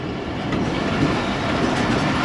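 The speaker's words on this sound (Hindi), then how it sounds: "सिहाला रेलवे स्टेशन की लूप लाइन पे जा रही है 48 डाउन रहमान बाबा एक्सप्रेस" The 48 Down Rehman Baba Express runs onto the loop line at Sihala railway station, with a steady, loud rumble and rhythmic wheel clatter heard from on board throughout.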